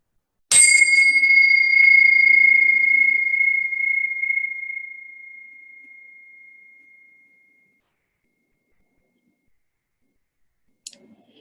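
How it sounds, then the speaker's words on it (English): A single meditation bell strikes once and rings out in a clear, pure tone that slowly fades over several seconds into silence, followed by a faint click at the end. "listening to the sound of this bell"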